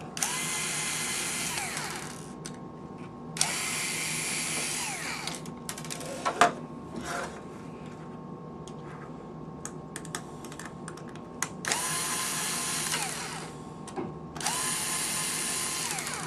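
A power screwdriver removes four screws from an Alaris 8100 pump air-in-line module, with several separate whirring bursts of a few seconds each, separated by quieter handling clicks and small mechanical taps, close up and with no speech.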